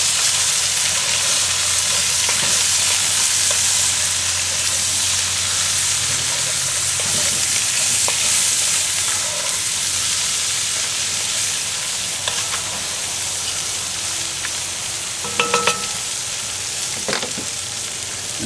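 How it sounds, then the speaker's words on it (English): Frozen Southern-style potatoes sizzle and fry steadily in a Dutch oven, with a loud continuous hiss and occasional scraping clicks as they are stirred. "put in our frozen Southern style potatoes. And just stir them up a bit."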